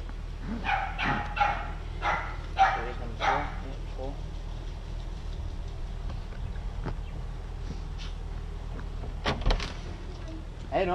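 Dog barks in short bursts from a house backyard in Upper Coomera, where a carpet python is being caught, mostly in the first few seconds, with people talking nearby and background noise continuing.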